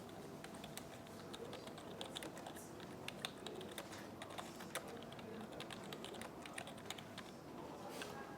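Fast, steady typing of commands on a Raspberry Pi computer keyboard at a tech meetup, with crisp key clicks running continuously for several seconds over a low room hum.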